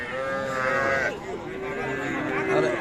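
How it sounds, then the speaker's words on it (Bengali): A young bull calf moos at a cattle market, a close, drawn-out call sliding in pitch, with another low moo and crowd murmur around it. "এটু পিচ্ছি ষাঁড় বাচ্চা"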